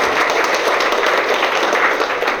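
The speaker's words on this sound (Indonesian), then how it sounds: "Tepuk tangan dulu untuk kedua pasangan." A crowd at a wedding applauds the newly married couple, a dense, even patter of many hands clapping at moderate distance for a couple of seconds, with no talk over it.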